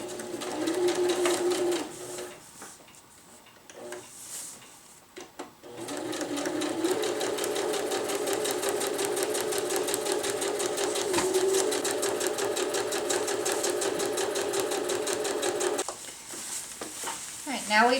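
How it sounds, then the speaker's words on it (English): A sewing machine stitches a channel seam along the edge of fabric for a hammock underquilt protector, running in steady close-up bursts with a short pause early on before a long continuous run. "sew the other side of the channel"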